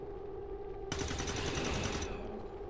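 A burst of automatic gunfire from XCOM 2: War of the Chosen rattles sharply for about a second over a steady game soundtrack hum, then cuts off.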